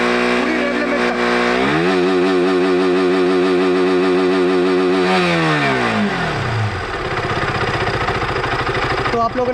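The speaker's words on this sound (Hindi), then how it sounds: "अब मैं इसको लेके जाता हूँ पूरी रेव लिमिट तक।" A KTM motorcycle engine revs hard and holds high up against its rev limiter, the pitch climbing, sustaining, then dropping back toward idle; loud and close, with no talk over it.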